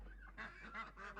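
A goose honks in a quick series of nasal calls, three or four short bursts close together, fairly faint with no talk.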